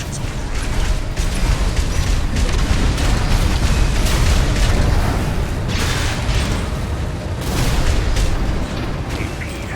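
Explosions bursting on the ground during a mech battle in Armored Core VI, a loud run of overlapping booms and crackling blasts with mechanical clanks, dense and continuous for about ten seconds.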